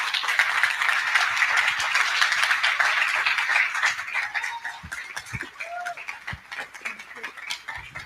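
Audience applause at an SEO conference talk welcoming a speaker to the stage, a broad sustained clatter of clapping that fades and thins after a few seconds into scattered claps.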